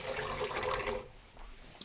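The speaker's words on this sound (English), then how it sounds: "So I'm not gonna pour a lot of water into them." Water pours into a pan holding ostrich fillets, a brief soft splashing stream that fades out after about a second.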